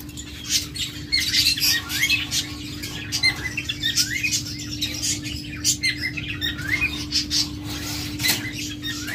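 Pet lovebirds and budgerigars of local breed chirp and squawk in a lively overlapping chorus at a bird sale, with sharp repeated calls over a steady low hum.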